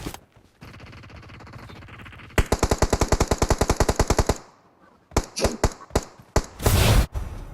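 Rapid automatic gunfire in PUBG Mobile, a long, evenly spaced burst of loud close shots followed by a few separate single and double shots and a final heavy blast.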